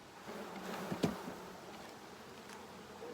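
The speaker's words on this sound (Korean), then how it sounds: "지금 벌이 유충을 돌보기는" Honeybees buzz steadily over a brood frame lifted from a hive, a dense close drone with a few individual bees flying nearer past the ear.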